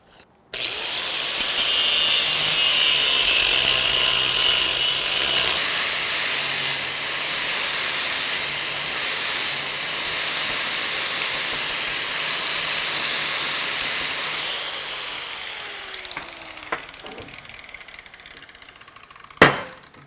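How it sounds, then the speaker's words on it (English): Angle grinder working a steel Halligan bar, first with a cutoff disc and then a flap wheel, a loud, sustained harsh grinding hiss running almost without break for about eighteen seconds before winding down, with a sharp clank near the end. "I'll start off with a cutoff disc and then work my way back over to finally a flapper wheel."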